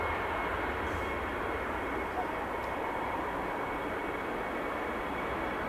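An Air Portugal airliner departing Manchester Airport for Lisbon, heard as a steady, loud broadband jet engine roar that holds constant throughout without clear rise or fall.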